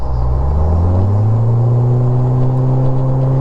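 Rewaco Super Cruiser trike accelerating hard, a loud close engine roar whose pitch climbs steadily, with harmonic tones rising together as it pulls.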